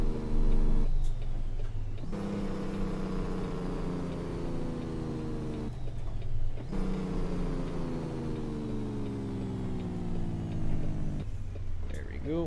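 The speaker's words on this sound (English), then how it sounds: "Let's go ahead and hit that Jake brake there." An engine brake on a truck in American Truck Simulator, a deep droning engine note that falls steadily in pitch as the truck slows, broken by a few short bursts of hiss.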